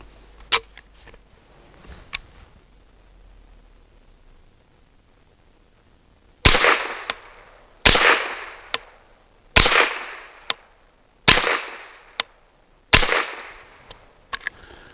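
Sharp rifle shots from a Goat-15 .22 rifle firing CCI Mini Mag segmented hollow points, six loud cracks at a steady pace with short tails, plus a few faint clicks before them.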